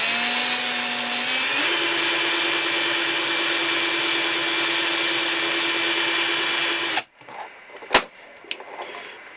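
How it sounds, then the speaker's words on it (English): A heavy power drill fitted with a 1.5 millimetre rivet bit runs steadily and loud for about seven seconds, its pitch stepping up early on, then stops abruptly, followed by a few sharp knocks and handling clatter. "It's a bit heavy, this drill."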